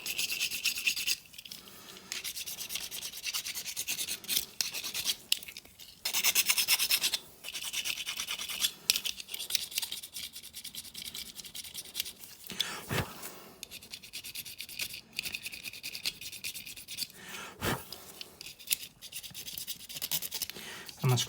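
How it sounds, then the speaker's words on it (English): A metal file scrapes repeatedly across a Matchbox 33 Ford die-cast casting, giving close, dry rasping strokes in uneven bursts with brief pauses between them. "I'm using my file."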